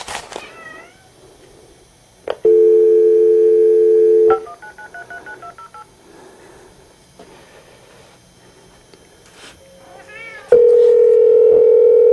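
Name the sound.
telephone dial tone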